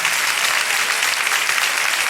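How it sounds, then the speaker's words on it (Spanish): A church congregation claps and applauds during a Spanish-language service, continuous dense applause from a crowd across the whole moment. "Dale un aplauso al Señor en esta mañana."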